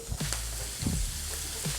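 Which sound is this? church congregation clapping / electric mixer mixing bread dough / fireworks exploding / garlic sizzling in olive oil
garlic sizzling in olive oil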